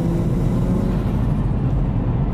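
A car with a freshly rebuilt RB25 engine and stock turbo accelerates at quarter throttle, a loud, steady engine drone heard from inside the car with no talking.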